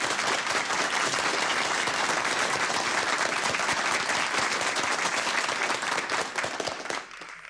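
An audience at an outstanding volunteer awards ceremony applauds in a steady, dense burst of clapping that fades out near the end, with no speech.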